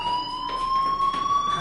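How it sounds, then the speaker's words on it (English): Fire alarm in the video game Life is Strange: a steady electronic tone held continuously at an even level, with fainter higher harmonic lines above it, sounding alone and fairly loud without any voices. "Hey, do you hear that fire alarm?"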